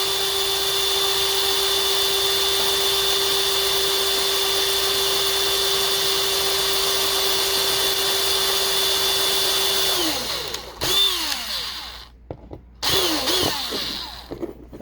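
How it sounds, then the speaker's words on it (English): A power drill boring into a die-cast Matchbox Pontiac toy car, a loud, steady high whine held for about ten seconds, then winding down and spinning up again in short bursts as the trigger is pulsed. "I like to kind of put the drill in there a little bit, see if I have enough for a screw."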